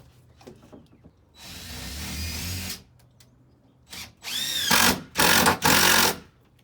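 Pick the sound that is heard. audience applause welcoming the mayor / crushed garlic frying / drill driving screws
drill driving screws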